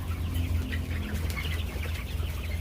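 A flock of 45-day-old Kaveri gavran chickens on a poultry farm clucks continuously, a busy overlapping murmur of many birds close by with occasional sharper calls.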